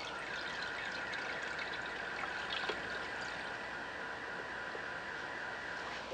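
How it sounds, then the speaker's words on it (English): A gallon of microbial inoculant liquid pours steadily into a container, a continuous hissing, trickling stream that stays even for several seconds with no speech. "I'm just gonna put the whole gallon in here"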